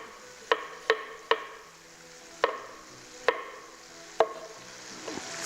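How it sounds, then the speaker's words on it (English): Bell peppers being chopped with a knife for pepper steak, giving six sharp, separate chops at an uneven pace, fairly close, over a faint low background hum. "So I'm just gonna chop these up."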